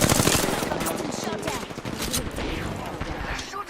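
Rapid automatic gunfire rattles in the Apex Legends battle royale game, a loud continuous burst of shots close by that barely lets up through the whole stretch.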